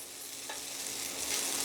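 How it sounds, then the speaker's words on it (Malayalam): Long beans (achinga payar) stir-fried in oil for payar mezhukku, an Onam dish, give a steady, close hiss and sizzle that swells slightly toward the end, with no voices. "ഒക്കെ ഒന്ന് 2-3 മിനിറ്റ് ഒന്ന് വഴറ്റി കൊടുക്കാം"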